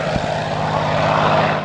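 A 1945 P-51D Mustang WW2 fighter in RAF colours roars past with a steady, full propeller-engine drone, loud and continuous throughout.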